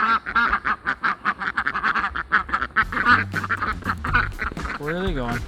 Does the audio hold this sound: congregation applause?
no